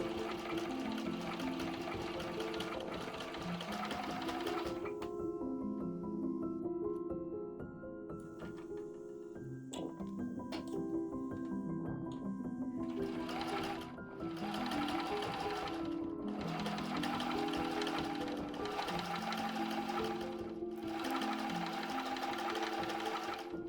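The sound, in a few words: sewing machine stitching a fabric box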